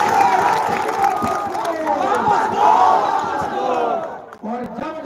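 A dense rally crowd at Patel Maidan in Saharsa, Bihar, shouts and chants slogans together in loud, rhythmic bursts. The roar stays heavy and close for several seconds and drops briefly near the end.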